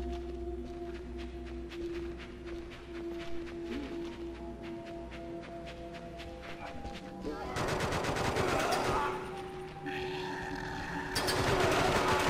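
Rapid bursts of gunfire from the survival horror video game Forbidden Siren 2, crackling out in two loud volleys over a steady, droning in-game musical background.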